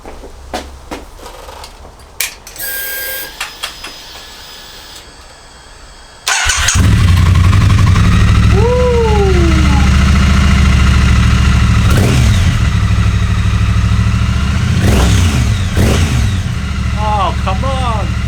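A 2020 Triumph Street Twin motorcycle fires up after a few seconds of handling clatter, then settles into a loud, close, steady idle with a deep throb, while someone talks over the running engine.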